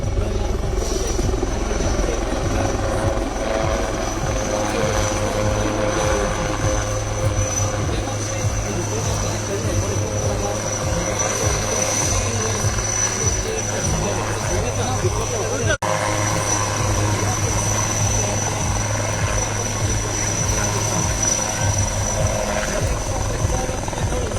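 A military Rudra helicopter flying at an Eastern Command military tattoo show in Kolkata, a loud steady rotor thump and turbine whine throughout, close and continuous with a voice faintly over it.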